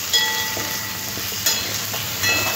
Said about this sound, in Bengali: খুব ভালো করে সবজির সাথে মিশিয়ে নেব।